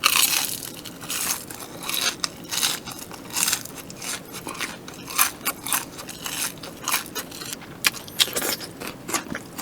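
Close, loud crunching and chewing of fried boneless chicken and cheese balls, with irregular crisp bites and crackles repeating steadily with no talk.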